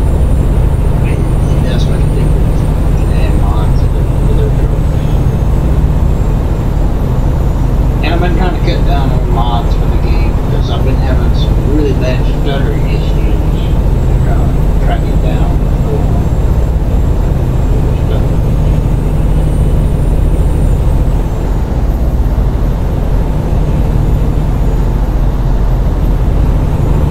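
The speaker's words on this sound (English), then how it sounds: "sit back and we'll just kind of drive and listen to that engine and look at the traffic" Truck engine droning steadily while driving in American Truck Simulator, a modded SCS truck, a continuous low rumble filling the whole stretch with faint traffic noise over it.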